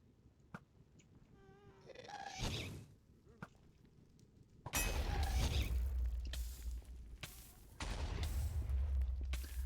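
Ghast fireballs blasting the Minecraft Nether: a quieter stretch with faint clicks and a rising wail gives way to loud, rumbling explosions that roll on in repeated heavy bursts.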